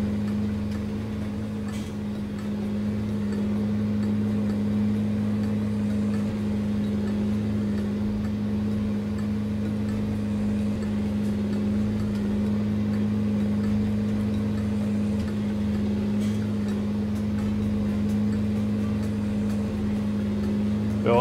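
Tractor engine in the farming game Irgendwo in Thüringen 2, a steady low droning hum held at an even level throughout, with no talk over it.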